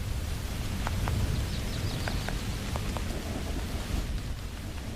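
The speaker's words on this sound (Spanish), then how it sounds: "Noviembre es testigo de los copiosos aguaceros que revitalizan la fertilidad de la tierra" Heavy rain pours steadily across the Serengeti plains while distant thunder rumbles low beneath it, with no voices.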